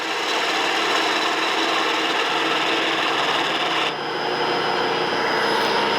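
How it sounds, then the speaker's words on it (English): A bedan tool cuts a wooden barber's pole spinning on a wood lathe, giving a steady, loud, close scraping rasp that runs throughout with one brief dip. "I'm going to come in here and kind of start out with my bedan"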